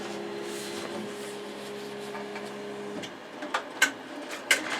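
Embroidery machine stitching a tack-down line across fabric for an in-the-hoop boxed bag, a steady close whirring hum for about three seconds, then stopping and giving way to a few sharp clicks and knocks.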